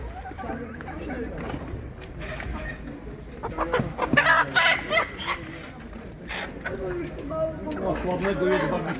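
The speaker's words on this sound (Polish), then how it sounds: "Bardzo ładny kogut." A rooster clucks and calls amid other birds, including pigeons, at a market in Stargard, Poland, while people talk nearby in a busy, noisy setting.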